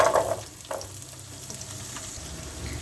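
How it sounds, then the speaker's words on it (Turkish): Steady sizzling of diced carrot frying in melted butter over low heat, a soft continuous crackle with a few light stirring scrapes near the start. "Havucumuzu kısık ateşte 3-4 dakika kadar soteleyelim."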